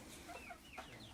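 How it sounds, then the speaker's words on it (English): A big rooster in China clucks and calls faintly, its brief cries rising over a steady outdoor background hum. "So there's a big rooster inside"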